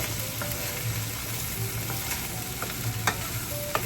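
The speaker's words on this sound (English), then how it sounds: "Get it all nice and fried." Rice frying in a pan for fried rice, a steady close sizzle with occasional scrapes and taps of stirring, no voices.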